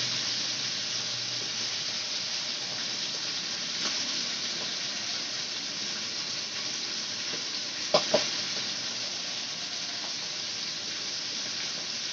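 Chicken pieces for a steam roast frying in a pan, a steady dense sizzle throughout with a couple of small pops near the middle, close and even.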